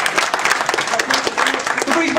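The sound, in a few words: audience applause for a fighter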